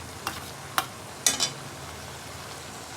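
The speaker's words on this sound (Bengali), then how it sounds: "এখন তো কষিয়ে নেব" Salt, chili powder, turmeric and coriander powder sautéing in a pan, a steady low sizzle broken by a few sharp scraping stirs of a spoon against the metal.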